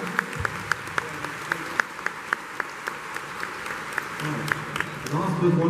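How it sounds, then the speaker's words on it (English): A small crowd at a film-industry Q&A event claps in sparse, distinct individual claps spread across several seconds, with a steady room murmur underneath. "Can we give this gentleman a round of applause because I never get an answer?"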